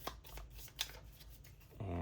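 Cards from the Goblins and Glory board game are shuffled by hand, a quick riffling that runs steady and close, heard alone with no talk.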